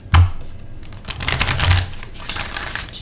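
Tarot cards are shuffled up close, with quick riffling, snapping bursts and soft papery rustles between them.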